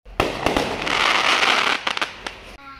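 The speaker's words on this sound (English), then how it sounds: "Oh, this isn't the fireworks I thought it would be." Fireworks burst in a dense run of crackling pops and sharp bangs that last about two seconds, then trail off into a few scattered reports.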